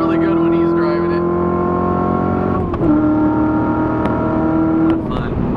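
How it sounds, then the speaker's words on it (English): Engine of a 2016 Corvette Z06 drones steadily under way, with a single gear-change dip partway through, heard from inside the car with faint voices. "the Z06 sounds really good when he's driving it"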